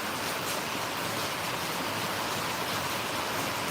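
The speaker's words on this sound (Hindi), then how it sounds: "बारिश की आवाज़ ज़्यादा आवत हुई है ना" Heavy rain falls steadily as a dense, unbroken hiss that fills the whole moment, loud and even with no pauses and no voices.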